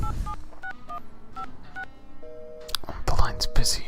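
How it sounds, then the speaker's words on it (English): Telephone dialing tones in a video game: a quick series of short, clear keypad beeps of varying pitch, followed by a few longer tones, with a whispering voice and clatter over the later part. "Call Mr. Norton"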